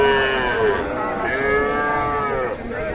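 Cattle moo loudly and close by at a busy rural cattle market in Dinajpur, Bangladesh, where heifer and bull calves are being sold. Several drawn-out, overlapping calls fill the clip without pause.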